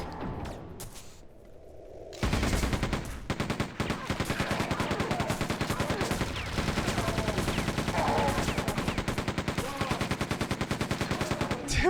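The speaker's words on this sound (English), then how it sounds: "Damn, machine gun is crazy." Rapid machine gun fire from the video game Quake II, a dense, loud continuous burst of shots that kicks in after a quieter opening and keeps going, with brief gaps, to the end.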